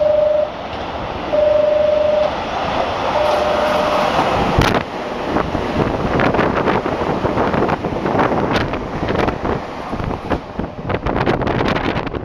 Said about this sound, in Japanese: 4番乗り場を電車が通過します。